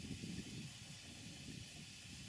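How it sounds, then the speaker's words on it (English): A Stuart Models Major beam engine running in steam, heard as a steady soft hiss of escaping steam with a faint rhythmic chuffing underneath, continuous and fairly quiet throughout with no voices. "it's a Stuart Models major beam engine in steam."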